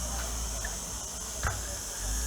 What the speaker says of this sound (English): Sorry about the noise with the cicadas, these little insects we have out in Spain